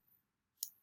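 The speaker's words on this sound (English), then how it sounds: "simply clicking on these like that visually" A single sharp computer mouse click, used to select images on screen, lands close and crisp after a quiet pause, with no talking.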